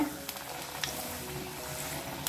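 Puri frying in hot oil gives a steady, fairly quiet sizzle with soft bubbling, punctuated by a few brief crackling pops.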